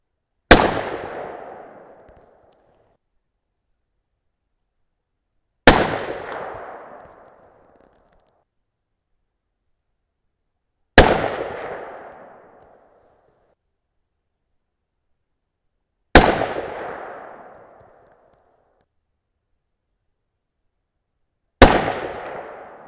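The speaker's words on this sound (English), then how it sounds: "Let's see if the Norma brass can shoot another good group." A 300 Win Mag rifle firing a 74.0 grain load in Norma brass sounds five loud, sharp shots spaced about five seconds apart, each followed by a short fading echo.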